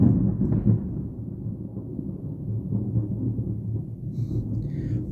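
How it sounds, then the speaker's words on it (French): Thunder following a lightning flash rolls as a deep, sustained low rumble, moderately loud and steady across several seconds, with no voices over it. "Je viens de voir un éclair."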